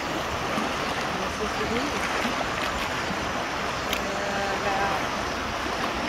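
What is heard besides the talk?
New River flowing around rock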